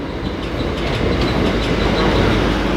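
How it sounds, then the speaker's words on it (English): A train pulls into a station platform in London, a loud, steady rumble of wheels on rails with faint clickety-clack and light squeal, close by and continuous with no talking. "Just there, we have Bouncy's train arriving."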